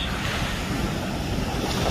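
Ocean surf washing onto a beach, a steady broadband rush of breaking waves mixed with wind buffeting the microphone, continuous and fairly loud with no voices.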